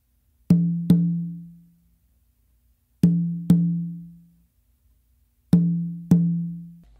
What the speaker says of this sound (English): what you're going to do with your dominant hand is actually move to the tumba on your dominant side, and you're going to do two opens there